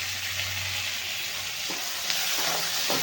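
Tomato goes into a pan of onions that are already frying until red, set against a steady, loud sizzle with a few stirring scrapes close by and no talking.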